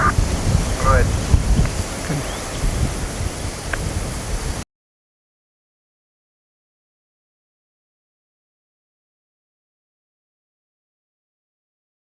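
Wind blowing outdoors near a nest of baby birds, a steady rough gusting rumble on the microphone for several seconds before it cuts to silence, with faint talk.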